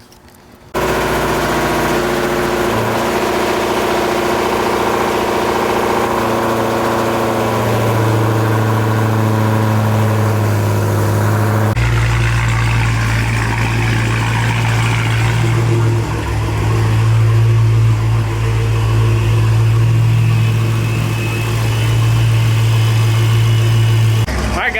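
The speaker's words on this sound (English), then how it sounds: "we got to prime it a few times and then we'll get it started." Rebuilt E85-fueled Dodge Hellcat engine cranks over for a stretch of about ten seconds, then fires into a loud, steady, rumbling idle with occasional throttle blips, close up and sustained; brief voices sit underneath.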